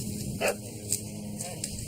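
Several sharp barks from a police K-9 dog in the woods, spaced irregularly and moderately distant over a steady background hum.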